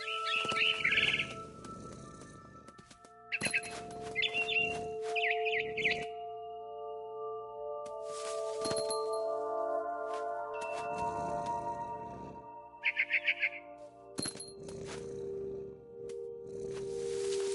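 Sharp bursts of scared bird chirping from the video game What Remains of Edith Finch come in several agitated clusters, separated by pauses, over sustained electronic tones.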